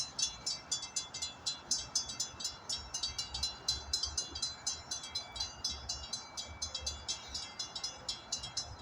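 A freight train reverses slowly back toward the rail yard, its wheels giving a regular clickety-clack rhythm of repeated metallic beats at moderate distance over a low rumble.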